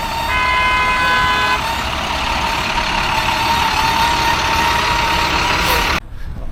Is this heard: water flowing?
no